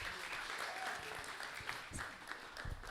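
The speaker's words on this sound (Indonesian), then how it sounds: "Tepuk tangan buat Kak Erwin" Applause for a guest introduced at a talk show, a dense steady patter of hands clapping throughout at moderate level, with a few scattered louder claps.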